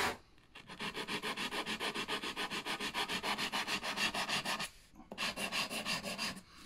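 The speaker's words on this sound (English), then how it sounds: "So we'll grind the rest, and then we'll dress that up" Sycamore wood on a keepsake box being ground down with a steady, rapid rasping rhythm of repeated strokes, close and loud, with a brief pause near the end before the grinding resumes.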